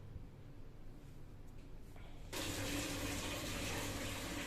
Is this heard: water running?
yes